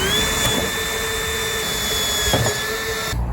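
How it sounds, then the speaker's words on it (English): A power drill boring into a car body kit panel to take rivets, a steady close whine held for a few seconds with a brief surge near the end. "he's gonna drill into it and put the rivet through it"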